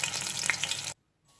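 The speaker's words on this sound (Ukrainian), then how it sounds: "Розігріту сковорідку олію викладаємо в формовані котлети" Loud, close sizzling and crackling of food frying in hot oil, which cuts off abruptly, then a faint hiss returns.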